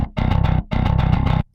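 Bass guitar driven through a Darkglass Ultra distortion plugin, two loud bursts of fast, chugging repeated notes separated by a short gap, thick gritty low end with buzzy upper harmonics, alone.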